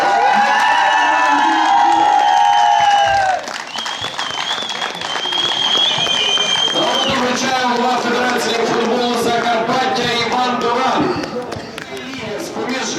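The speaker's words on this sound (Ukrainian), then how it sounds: "Ваші оплески голкіперу Ясінянської уради." An outdoor crowd at a youth football medal ceremony claps for a goalkeeper, with the applause running under a loud announcer's voice and music, steady and fairly close throughout.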